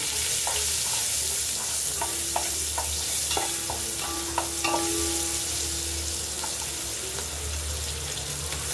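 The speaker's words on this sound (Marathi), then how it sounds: "कांदा परतवूया." Steady sizzling of onions sautéing in a pan, with scraping and stirring clinks throughout and no talking.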